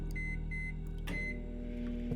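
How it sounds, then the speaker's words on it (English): Steady humming drone of a microwave oven running in the video game The Operator, a continuous electrical hum with a few faint beeps and clicks layered on top, close and even throughout. "Making a microwave dinner."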